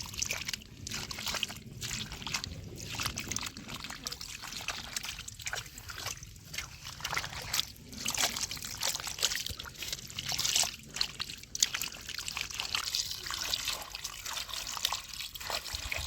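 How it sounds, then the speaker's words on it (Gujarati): Lepta fish being rinsed by hand in water, with steady trickling, sloshing and dripping throughout, close and moderately loud, with no talk. "હવે એને પાણી નાખીને આપણે થોડા થોડા સાફ કરી લઈએ"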